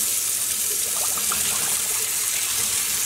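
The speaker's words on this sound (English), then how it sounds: "I am now filling this basin with hot water." Hot water pours steadily from a tap into a basin being filled for rinsing dyed cotton yarn, a continuous close hiss and splash, even in level.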